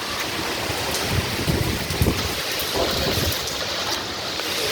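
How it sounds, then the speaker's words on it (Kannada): Light rain falling outside a house, a steady soft hiss of drops with a few louder patters, heard alone and fairly close. "ತಾತ ಇದು ಜೋಡ್ ಮಳೆನಾ ಕಮ್ಮಿ ಮಳೆನಾ?"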